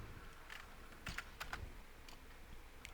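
Faint, scattered clicks of computer keyboard keys being pressed, a few separate taps over a quiet room hum, with no speech.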